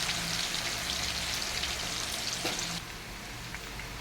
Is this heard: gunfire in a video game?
no